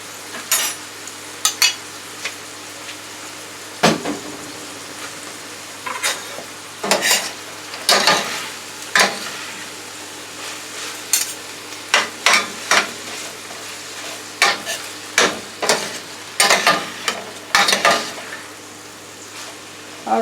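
Bourbon chicken and vegetables stir-fried in a pan with tomatoes added: a steady sizzle runs throughout under frequent scraping and clanking of the spatula against the pan, close and loud, with no voices.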